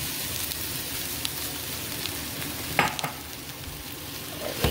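Browned meat sautéing in a pan while being stirred, a steady close sizzle with a few louder scraping stirs of the spoon near the end.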